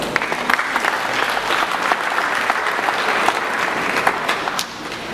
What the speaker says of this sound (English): So let's start off by you giving yourselves a round of applause.